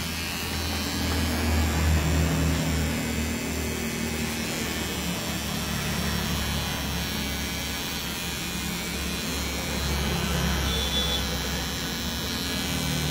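Electric hair trimmer cutting hair during a mid skin fade haircut, giving a steady, close electric hum and buzz that runs unbroken throughout with no talking.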